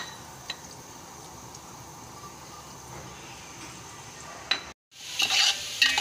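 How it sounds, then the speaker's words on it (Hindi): Onions fry in a pan with a steady, close sizzle under occasional stirring scrapes, then a brief pause before louder crackling resumes. No one speaks. "ये देखें मेरी प्याज फ्राई हो गई"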